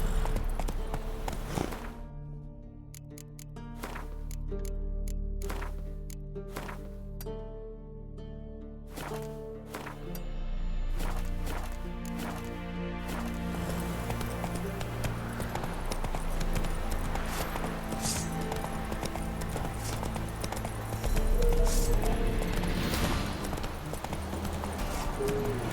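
Horse hooves clip-clop at a steady trot in The Witcher 3 on Xbox Series X, the rhythmic beats running throughout over a low ambient game backdrop with music-like tones.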